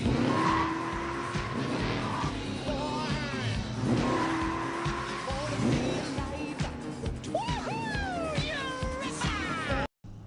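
Tires squeal and skid repeatedly in an Australian car movie scene, with engine noise and a dramatic movie-style soundtrack, ending in an abrupt cut.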